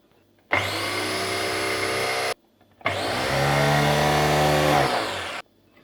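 A blender whirs loudly whipping a dalgona coffee mixture in two steady bursts, a short run then a longer one, with a brief pause between them.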